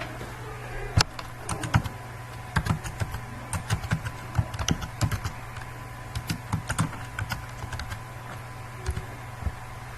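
Fingers type on a computer keyboard in irregular bursts of crisp, close key clicks with short pauses between, over a faint steady hum and no talking.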